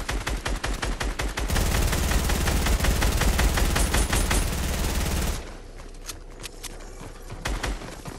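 Fortnite gunfire in a build fight: rapid, loud bursts of automatic shots that grow dense and steady, then drop to scattered quieter shots near the end.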